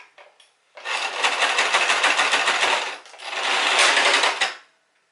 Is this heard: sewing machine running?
yes